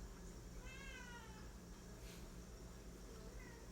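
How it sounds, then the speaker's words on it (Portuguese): Pet cat meowing indoors, faint and slightly distant: a couple of rising, drawn-out meows over a low background hum, with a brief rustle between them. "E minha gata tá miando."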